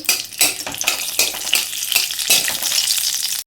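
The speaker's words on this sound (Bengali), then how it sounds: "কড়াইতে গরম তেল দিয়ে দিয়েছি। প্রথমেই আমি শুকনো মরিচ দিয়ে দিয়েছি, তারপর দিয়ে দিলাম তেজপাতা।" Dried red chillies and a bay leaf sizzle in hot oil in a wok, a loud, close, continuous frying hiss with bursts of crackle, stopping abruptly at the end.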